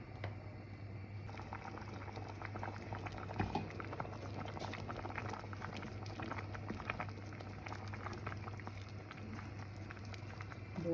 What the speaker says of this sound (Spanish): voy a esperar que hierva y se ablanden estas verduras